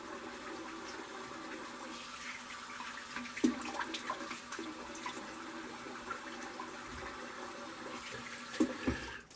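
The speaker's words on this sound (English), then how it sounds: "let me rinse my face" Tap water runs steadily into a sink while a face is rinsed after shaving, with occasional splashes breaking through the continuous rushing flow.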